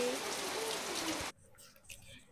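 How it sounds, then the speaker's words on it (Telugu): Evening rain falling steadily outside a house, a dense broadband hiss that cuts off abruptly partway, leaving quiet room tone with faint scattered sounds. "ఇప్పుడైతే వర్షం పడుతుంది బయట, చూడండి."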